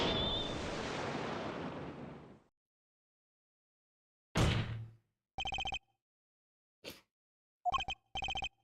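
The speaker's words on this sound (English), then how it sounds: "I used my cell phone." Sound effects from the video game Apollo Justice: Ace Attorney, where a cell phone rings: a long crashing whoosh fades out, then a loud bang, and a few short electronic beeping rings follow in bursts, with no voices.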